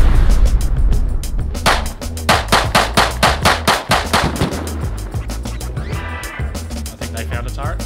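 An automated turret in the game Rust fires a rapid burst of sharp, loud gunshots in a steady rhythmic stream, close by, followed by a quieter stretch with faint background noise.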